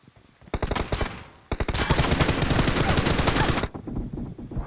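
Suppressed automatic gunfire in the battle royale game BGMI, rapid loud bursts of shots, a short burst followed by a longer sustained volley, then quieter ambient game sound.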